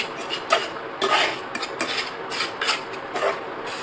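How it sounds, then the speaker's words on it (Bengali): Fish masala with whisked curd stirred in a pan over a low flame, the spoon scraping and clinking against the metal in uneven strokes, close and fairly clear with no voices. "লো ফ্লেমে কিছুক্ষণ আমি এটা নাড়াচাড়া করে নেব।"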